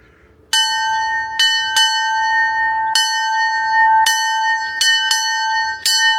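A bell in a transportation museum rings loudly and clearly several times at irregular intervals, each strike leaving a bright, lingering metallic tone that overlaps the next.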